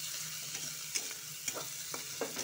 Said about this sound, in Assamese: পিঁয়াজখিনি আমাৰ ভজা হৈ গৈছে।